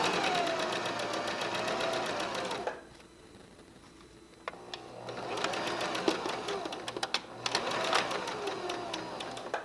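A sewing machine chain-stitches quilted pillow fabric, running steadily at close range, stopping briefly, then starting again with light clicks and a resumed hum.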